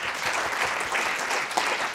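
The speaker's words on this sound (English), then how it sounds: "You are all the time applauding" Audience applause at an international round-table panel on indigenous filmmaking, dense and steady clapping from a full room throughout, no voices above it.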